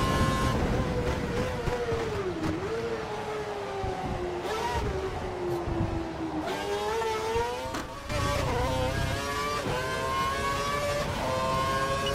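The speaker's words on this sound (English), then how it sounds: "We think the car behind is running on full revs." Formula One engines screaming at full revs in the F1 2012 video game during the Belgian Grand Prix, a loud continuous high whine that rises and falls with gear changes, with no voices.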